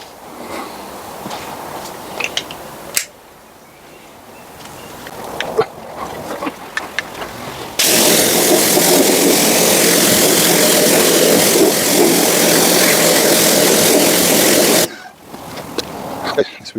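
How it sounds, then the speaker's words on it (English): Hose water sprays steadily onto a car wheel rim coated in wheel cleaner and iron fallout remover, a loud continuous hiss of about seven seconds that starts and stops abruptly, with quieter handling sounds before and after. "let's rinse it off."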